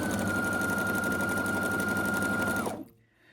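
A sewing machine stitches quilt fabric of floral and solid cottons in one loud, steady run of fast whirring with a constant motor whine, then stops abruptly and leaves near silence broken by a faint click.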